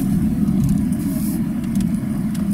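Volvo V60 Cross Country engine running steadily after being started, a continuous low car engine hum with an even rumble and no talk.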